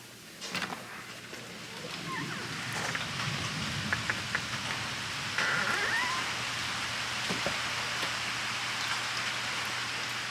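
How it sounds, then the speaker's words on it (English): Gentle rain falling outdoors on a rainy day, a soft steady patter with scattered drips and faint low rumbles in the background, no distinct loud thunderclap. "It's just a nice, gentle rain with some thunder in the background."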